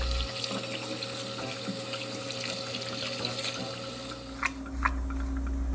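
Tap water runs steadily into a sink as plates are washed, a continuous close hiss with faint clinks and a brief splash near the end.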